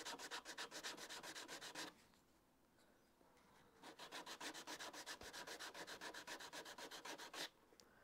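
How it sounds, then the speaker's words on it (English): Greenwood shrink pot bottom rubbed across 120-grit sandpaper, producing steady rhythmic scratchy strokes up close, one run of quick back-and-forth passes, a brief pause, then another long run. "put my 120 sandpaper down and just sand it right to the line"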